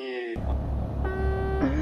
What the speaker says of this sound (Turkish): Bu nasıl korna?